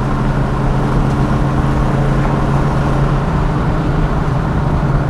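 A Ford Mustang V8 with BBK shorty headers, one of them cracked and leaking, and a Flowmaster catback exhaust, droning steadily and loudly at cruise from inside the car with a deep, constant engine hum.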